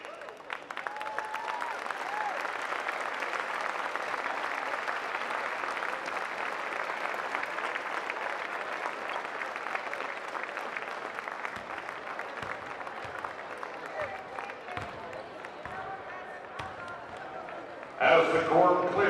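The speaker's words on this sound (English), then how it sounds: "let's have another round of applause for Randy Dunn" A crowd at a women's college basketball game applauds for an honoree, sustained close clapping with a constant dense texture, tapering slightly before a brief louder burst at the end.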